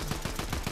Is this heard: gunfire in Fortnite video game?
yes